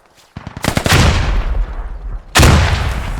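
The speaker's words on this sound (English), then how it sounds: "A lot of grenades getting thrown in now." Grenades explode in a multiplayer shooter match, a sharp burst of rapid cracks building into a heavy blast, then a second loud explosion with a rumbling tail.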